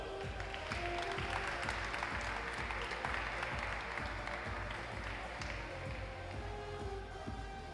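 Spectators applauding during the award ceremony of an Italian bouldering championship final in Forlì, steady crowd clapping with rhythmic taps underneath, fairly distant and quiet.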